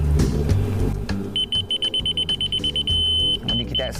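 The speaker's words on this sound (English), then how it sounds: "When you get that steady beep and that blue light right there, you're right on the laser mark." A laser level receiver beeps rapidly in a rhythmic series of high-pitched pulses, then settles into a steadier tone, heard close up over a low rumble of background noise.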